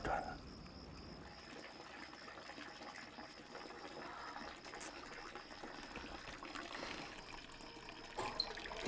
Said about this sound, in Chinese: 这水龙头一开，水表就开始转